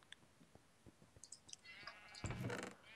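Sheep bleat in a modded Minecraft-style video game, a few faint soft calls at a distance among light clicks, then a louder bleat rising near the end, with no talk over it.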